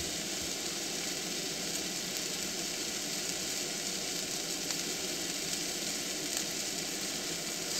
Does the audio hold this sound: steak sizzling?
yes